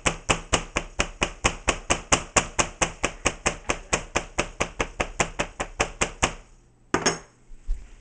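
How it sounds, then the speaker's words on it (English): Pork tenderloin being pounded with a meat tenderizer, about thirty quick, evenly spaced sharp thuds in a steady rhythm, close and loud, then a pause and one last blow. "I'm going to start by tenderizing the meat"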